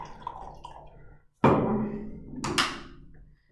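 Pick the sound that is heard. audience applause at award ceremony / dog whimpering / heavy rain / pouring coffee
pouring coffee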